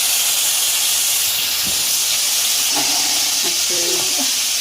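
Garlic added to hot oil already holding green chillies and nigella seeds, a steady loud hiss of sizzling throughout, with a few faint clinks and brief background sounds.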